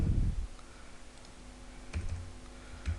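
Computer keyboard typing while writing Android app code: a few soft clicks and taps, with a heavier burst at the start and light keystrokes near the end, set against a quiet room hum.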